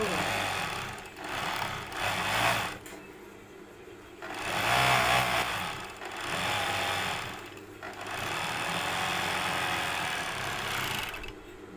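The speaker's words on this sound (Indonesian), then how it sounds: "ini yang sudah selesai dijahit kita obras dulu" Overlock sewing machine serging the joined front and back pieces of men's trousers, running in several steady whirring bursts with short pauses between them, with a voice speaking over parts of it.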